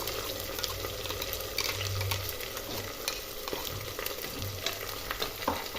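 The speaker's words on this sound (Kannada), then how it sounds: "ನಾನೇನು ರುಬ್ಬಿಟ್ಕೊಂಡಿದ್ನೆಲ್ಲ ಇದು ಪಾಲಕ್ ಅದನ್ನು ಹಾಕ್ತಾಯಿದ್ದೀನಿ" Ground spinach paste for palak pulao hits a hot frying pan, giving a steady close sizzle with wet stirring and scraping sounds throughout.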